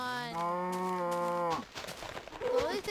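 A cow in a video game gives one long, loud, drawn-out moo, followed by brief rustling game noises.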